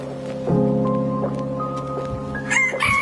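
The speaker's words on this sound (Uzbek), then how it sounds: "Nima bo'ldi xo'razimga?" A rooster crows in one long, loud, close call that rises and holds before breaking off, with a brief rustle at the end and no talking.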